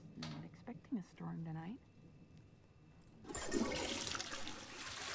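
A toilet flushes in a bathroom in Twelve Minutes, a loud rushing gush of water that follows brief talking and continues steadily to the end.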